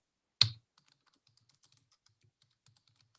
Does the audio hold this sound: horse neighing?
no